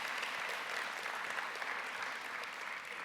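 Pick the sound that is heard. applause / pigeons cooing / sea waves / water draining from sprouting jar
applause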